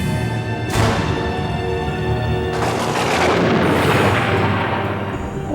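Gunshots in a Bengali TV drama: two loud, booming bursts that each ring on and overlap, with no voices in between.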